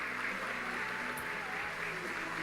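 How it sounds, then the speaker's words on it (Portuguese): Congregation in a church clapping together, a continuous wash of applause heard at a moderate distance, fairly quiet and steady with a faint low musical hum beneath. "Aplauda Jesus bem mais forte"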